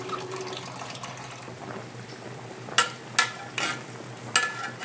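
Mustard greens cook in a simmering fish soup, a low bubbling and stirring wash broken by a few louder spoon scrapes and clanks against the pot, close by and without talk.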